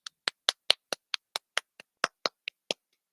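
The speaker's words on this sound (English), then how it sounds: "Can we get a hand clap?" About a dozen sharp, separate hand claps ring out in a steady rhythm, close and clear with silence between them, at a community event with food trucks and vendors.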